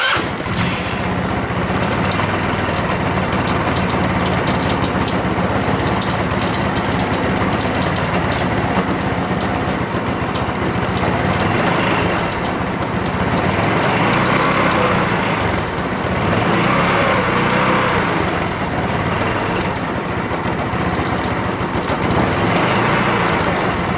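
A Chinese scooter engine runs steadily at idle for the whole stretch, a continuous nearby motor drone with slight swells and no talking.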